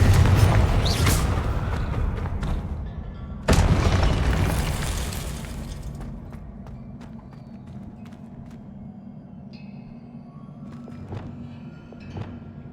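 A Confringo fire spell explodes in the Hogwarts Legacy video game: two loud, booming blasts, the second hitting about a third of the way in, each fading into a long low rumble, with faint crackling and chiming magic effects trailing afterwards.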